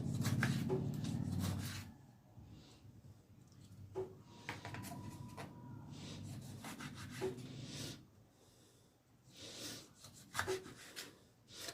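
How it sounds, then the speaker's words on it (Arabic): A knife cuts tomatoes into small cubes on a board, giving soft repeated scraping chops and rubs in irregular bursts, close and fairly quiet, with no talk. "هنبدأ نقطع الطماطم بتاعتنا بالشكل ده"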